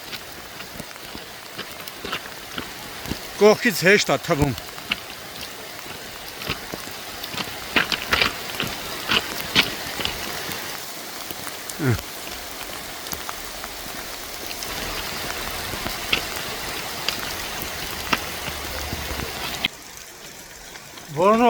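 Heavy rain falls steadily in Akhtala as a continuous hiss on surfaces, with occasional louder spatters and a few bursts of talk and other noises over it.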